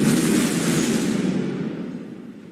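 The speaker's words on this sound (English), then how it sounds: "an explosion ripped through Beirut's port" Massive explosion at Beirut's port, a loud sustained broadband roar and rumble that slowly decays over a few seconds, with no voices.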